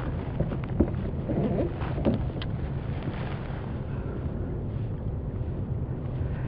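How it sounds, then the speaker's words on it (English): Strong wind roars steadily across the microphone while kayak fishing on open water, a constant low rumbling buffet with a few gustier moments and no talking. "As predicted, the wind has come up pretty strong"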